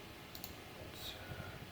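A couple of quick mouse clicks sound close and faint as the save button is pressed in a coding tutorial, with a soft low room hum beneath and no talk.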